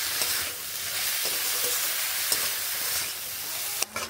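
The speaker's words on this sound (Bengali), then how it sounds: "খুব ভালো করে এবার ভেজে নেব।" Ridge gourd ghonto with salt and turmeric stirred and frying in a pan, a loud close sizzle with soft spatula scrapes and a sharp metallic clank near the end.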